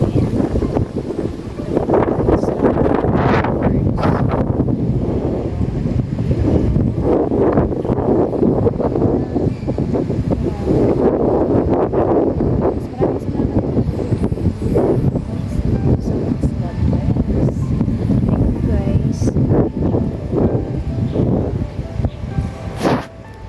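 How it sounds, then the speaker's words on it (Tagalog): Cold wind blowing outdoors, loud gusty buffeting across the microphone with rumbling low roar rising and falling throughout, no talking. "Malamig na po yung simoy ng hangin"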